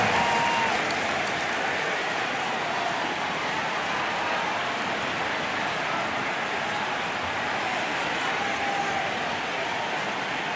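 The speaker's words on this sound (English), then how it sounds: "Give yourself a round of applause." Steady crowd applause from an arena audience at a Celtics versus Cavaliers basketball game, a dense continuous clapping roar that holds at an even level for the whole stretch with no talk.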